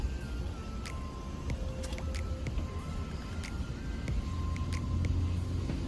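Automated car wash machinery running at a self-service drive-through wash, giving a steady low rumble with whirring tones and scattered brief clicks and hisses, continuous and fairly close, with no talk.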